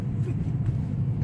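A car driving along a road, heard as a steady, low engine and tyre rumble that stays even and unbroken throughout the short stretch.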